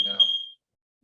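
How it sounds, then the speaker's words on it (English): A home smoke or fire alarm sounds one sharp, piercing electronic beep lasting about half a second, close by, over a quiet voice, then silence. "My fire alarm was going off"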